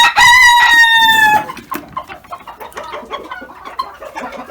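Loud, close calls from Gümüş Zibrit and Russian Orloff chickens ring out at first, a drawn-out crowing cry, then softer clucking and scratchy farmyard bustle continue quietly.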